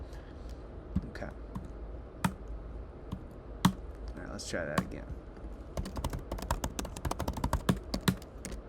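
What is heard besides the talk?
computer keyboard keys being pressed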